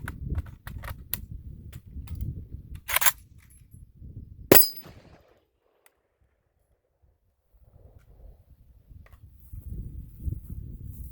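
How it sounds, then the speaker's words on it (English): Magazine being worked loose from a new Zastava ZPAP M70 AK47 rifle, with a few sharp metallic clacks and rattles over handling noise, a loud snap near the middle, then a quiet stretch before faint fumbling returns. "That mag doesn't like coming out of there."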